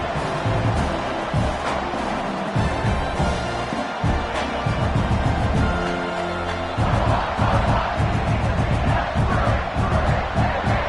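Football stadium crowd roars loudly and continuously during a game, a dense wall of cheering and shouting that swells toward the end, with faint commentary underneath.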